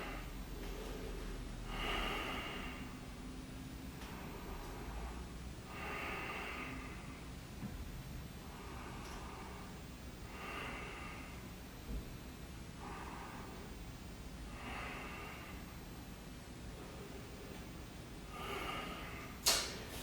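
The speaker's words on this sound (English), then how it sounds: "Let's take a few breaths here." Slow, deep breaths during a yoga session for leg day, several long rhythmic inhale-exhale swells spaced a few seconds apart, soft and close, with no talking over them.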